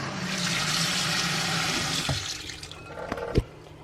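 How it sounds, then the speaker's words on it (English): Water added from a tap to a bowl of sliced carrot coins, a steady rushing stream for about two seconds that cuts off, followed by a few knocks and a sharp clunk. "I'm going to add just a little bit of water."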